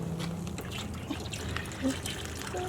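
Liquid trickles faintly from a punctured Jeep radiator. It makes a soft, quiet dribble with voices talking over it.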